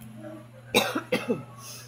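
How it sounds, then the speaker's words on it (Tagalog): A quiet room with a low steady hum, then two short, sharp coughs close to the microphone, one right after the other. "Ubo."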